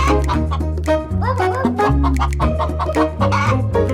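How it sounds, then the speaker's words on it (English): A hen clucks in quick, repeated bursts over steady, loud background music. "The hen pecked at Nureongi without mercy"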